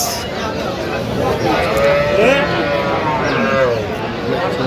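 Cows and calves mooing and bleating at a busy cattle market, Aftabganj haat, with lowing calls rising over constant crowd chatter and haggling voices.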